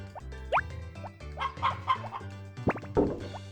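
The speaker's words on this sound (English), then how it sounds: "occasionally you have multiple chickens making a sound, and then just like extra loud chicken" Chickens cluck in Harvest Moon Back to Nature, short game-style clucks and plops scattered in a loose rhythm, some overlapping, with one louder squawk near the end.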